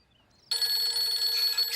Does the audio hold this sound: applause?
no